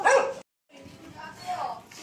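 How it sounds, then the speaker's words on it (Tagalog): A dog barks close by during a home service visit, one sharp loud bark followed by a short gap and then softer vocal sounds that blend with nearby talk. "Buti lang bait yung aso."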